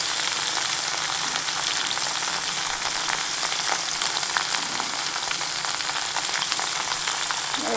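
Beetroot pieces fry in a pan with a steady, dense sizzle that stays loud and even from start to finish, with faint crackles scattered through it.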